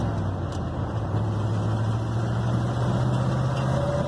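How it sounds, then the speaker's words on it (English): A 1972 Ford F100 pickup engine hums steadily from inside the cab while driving, a low continuous drone with faint road rumble, no voices. "hope you can hear the engine working and hear how it sounds there as we're driving it"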